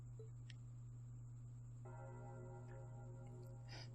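A mysterious bell from Trails of Cold Steel rings faintly over a constant low hum, with a soft sustained tone entering partway through.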